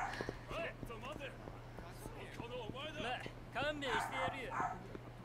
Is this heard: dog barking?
yes